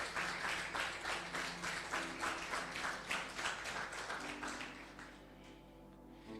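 A church congregation claps together in a steady rhythm, the applause fairly distant and gradually fading out.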